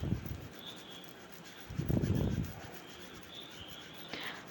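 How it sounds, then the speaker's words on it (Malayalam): Flour and other dry cake ingredients for a vanilla sponge are sifted through a sieve, heard as soft rubbing, scraping bursts at the start and a louder sustained patch midway, close by with no talk. "അതിന് വേണ്ടിയാണ് നമ്മൾ അരിപ്പയ്ക്കകത്തിട്ട് അരിക്കുന്നത് അത് ത്രീ ടൈംസ് ഇങ്ങനെ അരിക്കണം"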